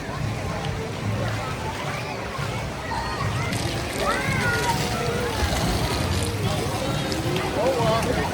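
Water sloshing and splashing along the lazy river ride at Sesame Place water park, a continuous busy wash with children's voices and chatter mixed throughout.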